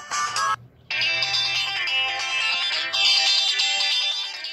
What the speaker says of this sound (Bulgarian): Сега ще ви пусна звука на Windows смартфона, наистина че е Windows.